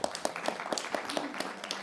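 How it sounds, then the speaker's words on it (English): A seated audience at a spiritual talk claps for Jay, a brief run of fairly sparse, evenly spaced hand claps at moderate loudness with no talking over it. "let's give Jay a round of applause"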